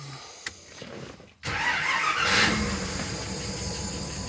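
A Bentley engine, fitted with a GM alternator, cranks briefly and then catches, settling into a steady running roar at close range with no talk.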